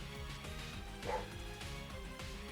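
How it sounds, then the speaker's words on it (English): A pet dog barks indoors during an online Pokémon draft league battle, a few faint, brief yips buried under steady looping game music. "I apologize for my dog, by the way."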